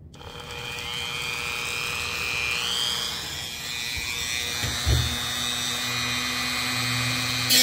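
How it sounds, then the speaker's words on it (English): A Dremel rotary tool fitted with a cutting wheel slices through thin aluminum for a septic tank riser, giving a steady high-pitched whine and grinding buzz throughout, with a brief louder bite near the end. "I'm going to try to cut it with my Dremel tool with a cutting wheel"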